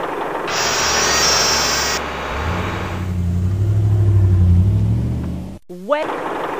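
Tow truck in the Tonka Construction video game, a rumbling engine rising and falling as it drives, followed by a brief game sound effect near the end.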